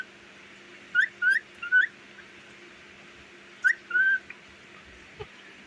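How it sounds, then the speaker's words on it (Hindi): Close, clear rising whistles from a pet parrot come in two short clusters of three quick notes each, separated by a pause of quiet room hum. "देखो मिट्टू कैसे सीटी बजाता है"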